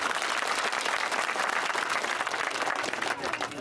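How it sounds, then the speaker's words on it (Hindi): A crowd at an election rally in Ashoknagar bursts into sustained applause, dense continuous clapping that fills the whole stretch at steady loudness, with faint voices mixed in. "सही किया कि नहीं? तो तालियां बजाओ।"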